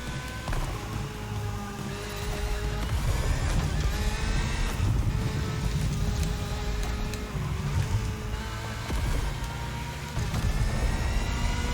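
Nissan GT-R R34 Skyline in a rally racing video game, engine droning steadily and loudly as it accelerates through gear shifts, with no voices over the continuous mechanical roar.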